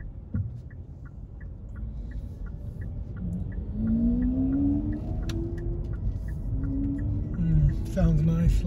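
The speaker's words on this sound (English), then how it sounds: "Sounds nice, Lamborghini." A Lamborghini passes on a town street, its engine rising into a loud, low growl with tonal revving over the muffled hum of the car recording from inside. A repetitive indicator tick runs through the first half, and a person speaks.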